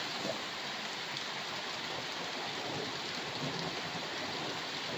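Steady rain falls outdoors in northern Illinois, a dense even hiss of drops on surfaces that holds without pause, moderately faint and with no voices.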